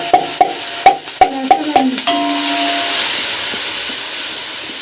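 Browned onions and green chillies go into a hot pan, several sharp clanks of a spoon against the metal, then a loud, rising sizzle that settles into a steady hiss of frying.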